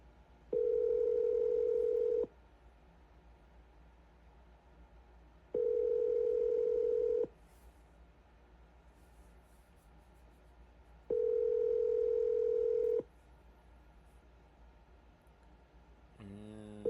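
Outgoing telephone call ringback on a business line: three evenly spaced long tone bursts, each about two seconds, separated by roughly three-second gaps of quiet line hiss, loud and alone with no talking.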